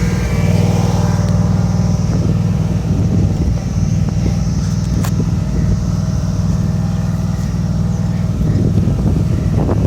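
Bolens Ride-a-Matic garden tractor with its starter spinning steadily, a continuous low mechanical drone and whir close to the mic for the whole stretch, with some wind noise over it.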